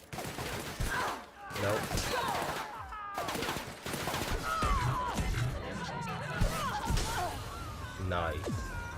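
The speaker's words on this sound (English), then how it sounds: "Wait, from where are you shooting?" Rapid bursts of gunfire and bullet impacts crackle through a video game battle, dense and continuous under a player's voice.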